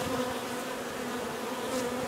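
A dense, steady buzzing of many honeybees from a hive in a storm shutter hums continuously and close, with no voices.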